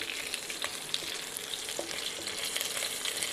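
Green chillies, bay leaves, cardamom pods and cloves crackle and sizzle in hot oil for an Indian paneer dish, a steady close frying hiss with small pops and faint scrapes of stirring throughout.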